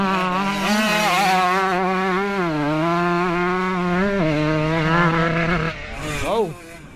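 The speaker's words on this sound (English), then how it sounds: "did that bike sound a little bit weird there going into the turn?" A 45-year-old motorcycle engine runs loud and close on a race track as the bike heads into a turn. Its steady buzzing drone dips and rises in pitch, then drops away abruptly near the end.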